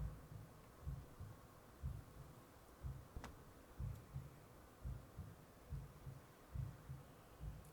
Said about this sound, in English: I can still hear a heartbeat, really faint